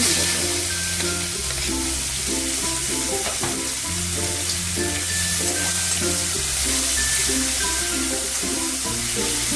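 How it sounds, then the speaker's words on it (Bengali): Chopped onions sizzle and crackle loudly in hot oil over tempering spices, a continuous frying hiss with occasional stirring underneath. "পেঁয়াজটাকে একটু ভেজে নেব"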